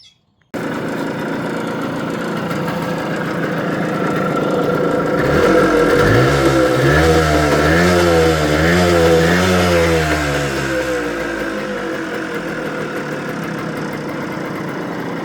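A Suzuki TF185 motorcycle engine running after a carburetor repair, idling steadily nearby before revving up and down in a rising and falling whine, then settling back to a rough idle.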